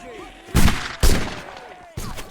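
Rifle shots from the video game 95th Rifles crack loudly in three separate bursts, each followed by a short fading tail, with faint game sounds between them.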